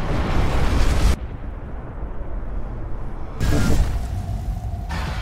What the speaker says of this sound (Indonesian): ledakan susulan yang berasal dari arah pabrik